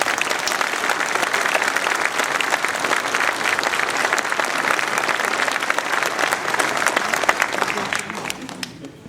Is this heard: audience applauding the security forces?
yes